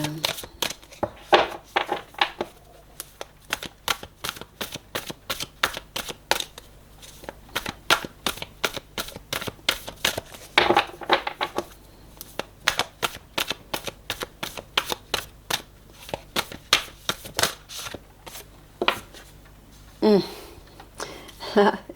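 Oracle cards shuffled briskly for a nine-card spread, a long run of rapid riffling snaps and flutters in repeated bursts, close and fairly loud, with brief pauses between handfuls.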